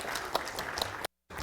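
Audience applause at a Korean industrial engineering academic conference awards ceremony, a steady, dense patter of clapping that runs about a second, cuts out briefly, then resumes.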